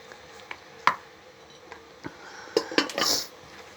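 Dinakdakan being tossed with calamansi, onion and chili in a bowl, heard as a few scattered clinks and knocks of a utensil against the dish, with a louder cluster of scrapes near the end.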